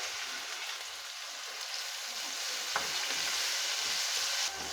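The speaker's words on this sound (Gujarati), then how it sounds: "આ રીતે સતત હલાવશું અને ટમેટા એકદમ સોફ્ટ થાય ત્યાં સુધી સાંતળી લેશું" Chopped tomatoes fry in hot oil with a faint, continuous hiss, interrupted by an occasional soft stir or tap of a spoon against the pan; quiet and close, without speech.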